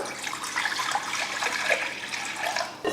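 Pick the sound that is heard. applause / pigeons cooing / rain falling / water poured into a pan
water poured into a pan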